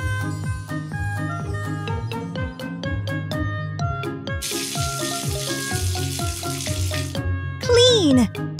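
Water pouring to rinse foam off a toy car, a steady hissing spray running for a few seconds over continuous backing music.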